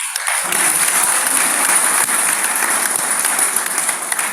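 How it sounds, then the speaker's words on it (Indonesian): A church congregation bursting into loud, enthusiastic applause during a worship service, dense continuous clapping that fills the room throughout. "Beri tepuk tangan yang meriah buat Tuhan Yesus."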